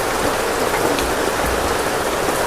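Steady rain falls in a dense, even hiss that holds for the whole moment, with no voices.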